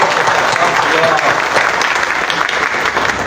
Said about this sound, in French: chère assistance, je vous prie d'applaudir